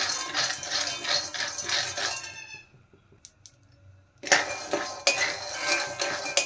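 Peanuts being stirred and roasted in a hot kadai make clinking, rattling scrapes against the metal. The clatter stops for about two seconds of near quiet, then resumes just as busily.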